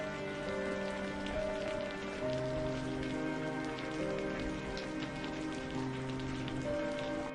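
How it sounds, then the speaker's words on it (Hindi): Steady rain falls over a village, a continuous even patter that stays at the same level throughout, with sustained tonal music running beneath it. "उधर गांव में बारिश धीरे धीरे कम होने लगी।"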